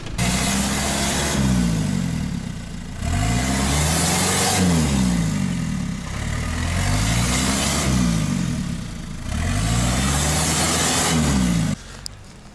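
A UAZ off-road vehicle's engine revs hard on rough rocky terrain, loud and close, rising and falling in four long surges before cutting off abruptly.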